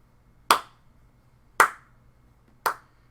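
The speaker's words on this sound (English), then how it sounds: "The dwarf woman does a slow clap as you enter." Three loud, deliberate hand claps spaced about a second apart, a slow clap in an otherwise quiet room.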